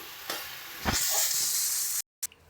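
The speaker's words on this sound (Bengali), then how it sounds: "এবার ভালো করে এটাকে নাড়িয়ে চাড়িয়ে একটুখানি এটা নামিয়ে নেবো" Cooked cane-shoot greens stirred in a hot pan give a steady close sizzle and hiss with a couple of scraping strokes, cut off by a brief silence near the end.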